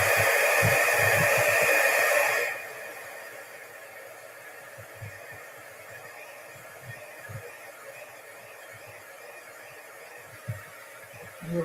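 A heat tool blows hot air onto alabaster embossing powder with a loud whooshing hiss for about two seconds, then cuts off, leaving faint handling knocks.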